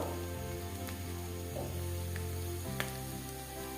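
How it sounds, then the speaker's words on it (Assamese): Goat intestines and papaya fry in a pan with a steady, close sizzle and faint crackle throughout, a low hum running underneath. "এয়া অমিতা দিয়াৰ পিছত মই ধুনীয়াকৈ ভাজি ল'ম।"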